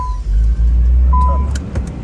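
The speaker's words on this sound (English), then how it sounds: "Starter worked good that time." A Nissan 300ZX twin turbo (Z32) engine turns over on its starter and settles into a steady, deep idle rumble, heard close up and continuous.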